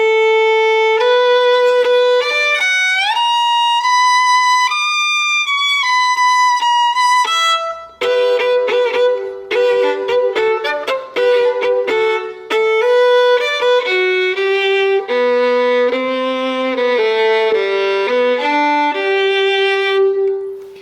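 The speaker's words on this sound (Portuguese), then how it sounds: "Você passa o arco e o violino já explode" Bowed violin, a Jacob Stainer lion-head instrument, playing a melodic line, long sustained notes at first, then quicker bowed phrases, bright and resonant, with no talking.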